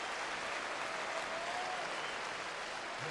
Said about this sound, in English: this crowd now shows their appreciation to Roy Halladay